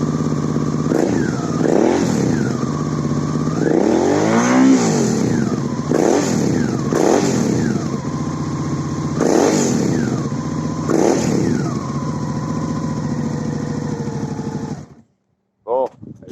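A 2014 Suzuki DL 650 V-Strom fitted with a GPR stainless steel exhaust idles loudly up close and is revved several times in rising and falling surges, then cuts off sharply near the end.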